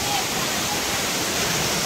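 Steady, full roar of the Mangaon waterfall in Sindhudurg, a dense continuous rush of falling water heard close and loud without a break.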